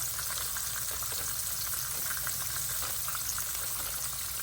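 Floured pork chops frying in hot grease in a pan, a steady bright sizzle with faint crackles, close and continuous with no talking.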